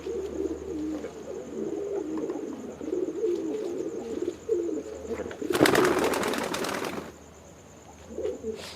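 Kalanka female and jackpori male high-flyer pigeons coo steadily in low, throaty rolling phrases, close and continuous, with a brief burst of flapping wings midway and a faint steady hum behind.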